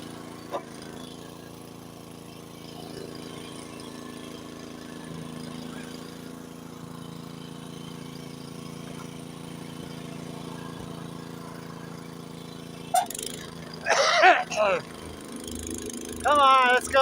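A Honda snowblower runs outdoors during a Lake Tahoe snowstorm with a steady mid-pitched engine hum at moderate distance, and a person begins talking over it near the end.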